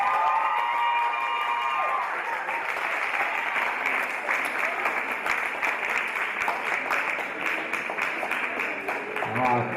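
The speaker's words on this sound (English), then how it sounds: "a round of applause for these strong girls" Audience applause at a desert powerlifting meet for the women lifters, a dense, steady clapping that holds loud and continuous throughout, with a few cheers mixed in near the start.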